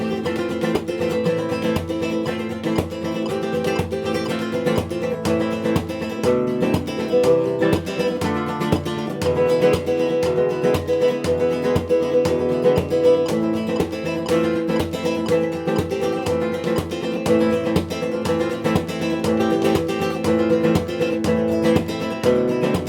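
Flamenco guitar plays rumba chords in a fast, percussive strumming pattern, close and steady throughout with sharp rhythmic accents and ringing chords, no speech over it.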